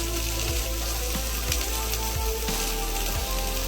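Onion frying in oil in a pan on an Indian home stove: a dense, continuous sizzle with a low hum beneath and faint soft clinks, loud and steady throughout with no talk.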